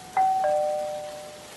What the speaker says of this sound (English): Okay, ring the doorbell.